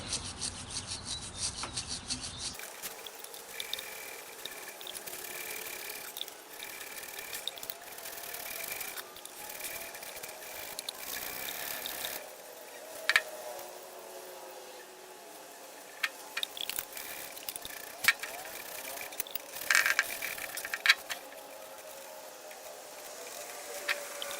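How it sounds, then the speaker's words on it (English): Small brass bristle brush scrubbing a plastic part clean with acetone, close rhythmic scratchy rubbing strokes that come in bursts with brief pauses, a few louder scrapes standing out. "I'm using a little brass bristle brush because acetone eats plastic up. And I'm just going to try to clean this the best I can."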